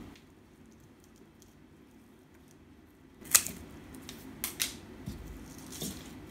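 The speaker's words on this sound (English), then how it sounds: "I'm only going to be using probably 4 centimetres of this rope. Let me just cut that off." Scissors snip through a short length of rope in a quiet room, a sharp cut followed by a few softer snips and rustles, close and alone with no talking.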